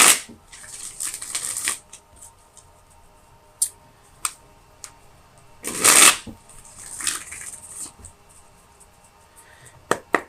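Tarot cards are shuffled up close in several crisp riffling bursts, the loudest in the middle, separated by light taps and card handling.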